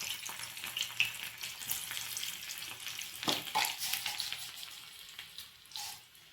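Crushed garlic and two dried red chilies fry in hot oil for a village-style gongura pachadi, giving a soft, steady sizzle with scattered pops and crackles, close by and fairly quiet.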